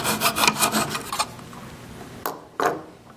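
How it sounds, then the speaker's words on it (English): A handsaw cuts a small wooden stem in a miter box with quick rasping back-and-forth strokes, then slows to a few single strokes, close and loud. "I'm going to cut that in the miter box"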